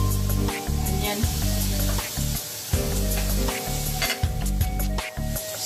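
Green chilli, garlic, ground ginger, spring onion, onion and capsicum sizzle in a hot pan for Manchurian gravy, a steady close frying hiss broken by stirring scrapes and the occasional clink of a utensil.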